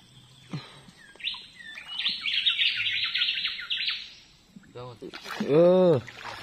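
Birds chirp and call in the Sundarbans mangrove forest with a dense burst of trilling song in the middle, then a louder sweeping call near the end. There are faint knocks and water sounds around them.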